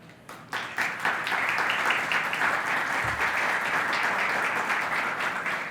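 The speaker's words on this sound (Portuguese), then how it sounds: "Um belíssimo aplauso para a Kelly." Applause from an audience at a lecture as a performer is invited on stage. A few sharp early claps swell into steady, full clapping that continues evenly to the end.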